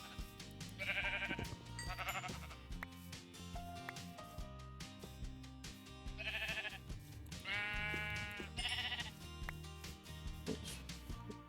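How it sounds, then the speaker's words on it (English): Sheep bleating in Minecraft with the GregTech New Horizons modpack: several short bleats come in bursts around one, two, six and eight to nine seconds over busy game background sounds. "Where's another sheep? Lots of sheep around here."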